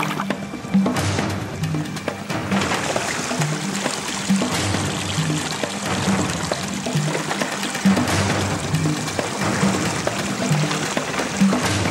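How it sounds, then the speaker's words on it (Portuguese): Clear mountain stream water runs steadily over rocks, a continuous close rushing and pouring sound with no pauses throughout. "Achei um curso d'água maravilhoso ali."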